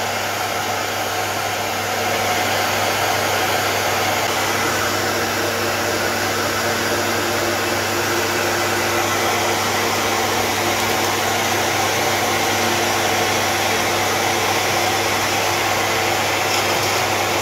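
A heat gun shrinking the covering on a large model aircraft blows a loud, steady whooshing hum that holds unbroken from start to finish, close and alone.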